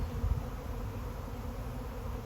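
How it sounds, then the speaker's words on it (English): A swarm of honey bees fills the air with a dense, continuous buzzing drone, steady and enveloping, heard close up from within the swarm. "This is a swarm in action."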